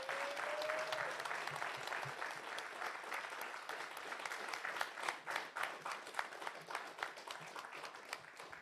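A congregation applauds at a Sabbath evening church class, a sustained burst of many hands clapping, fairly close, with a brief tone at the start and individual claps standing out as it tapers.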